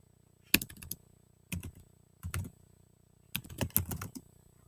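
Typing on a computer keyboard comes in several quick bursts of close, crisp key clicks separated by short pauses in a quiet room.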